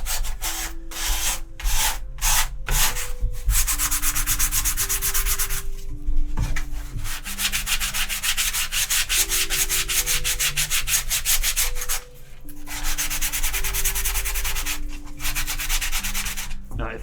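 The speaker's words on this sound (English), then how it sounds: "then sand that down a little bit" Foam blocks are sanded by hand with steady back-and-forth rasping strokes, close and rhythmic, running continuously with a few short pauses between passes and no talking.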